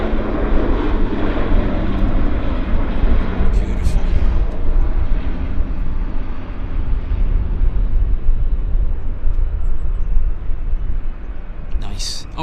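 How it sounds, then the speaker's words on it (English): A Bombardier Q400 turboprop taking off at Vancouver Airport, a loud, steady broadband engine roar that holds strong throughout, with a few brief high clicks. "here's the Q400. See if he leaps into the air right on cue."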